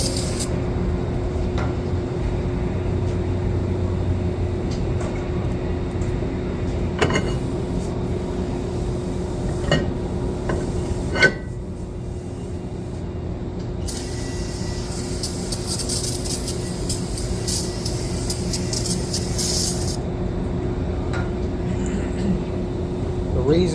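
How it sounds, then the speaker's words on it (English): Aerosol cleaner hisses onto the rear brake parts of a Subaru Legacy in one steady spray of several seconds midway, over a constant low hum from the workshop. "The reason that we're spraying them off is because they have like a packing grease on them"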